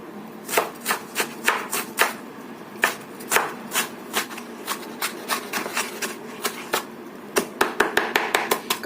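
A knife chops ginger on a cutting board for a Chinese-style steamed ginger chicken, with crisp, evenly spaced taps that speed into a quick flurry near the end, close and clear with no talk.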